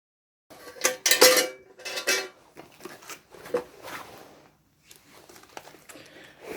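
British Army mess tins, wrapped with a rubber band and cloth, are handled close up, giving a few clattering metallic knocks and rattles in uneven bursts followed by softer scraping and rustling.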